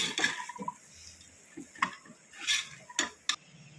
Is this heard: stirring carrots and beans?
yes